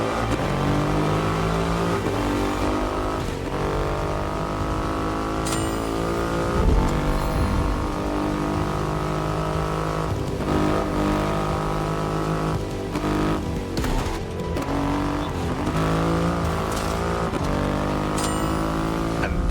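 Triumph Rocket 3 motorcycle with a 2.5-litre engine in the racing game The Crew Motorfest, a steady loud engine drone with rising and falling revs, a few shifts and throttle swells running through the whole stretch.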